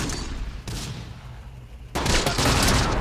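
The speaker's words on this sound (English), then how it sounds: "Yeah, that's indirect fire." Indirect artillery fire in Close Combat lands as a distant rattling barrage, first a short burst, then a louder, harsher volley of impacts near the end.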